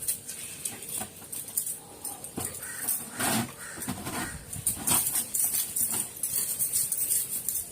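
A puppy dog being bathed makes restless scrabbling and splashing sounds in irregular bursts, with occasional soft whimpers, up close and moderately loud.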